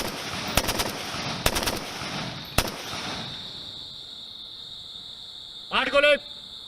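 Gunfire from a Sikh regiment's night firing practice: a few sharp shots crack out in the first few seconds, then a hissing background of insects follows, with a brief voice-like burst near the end.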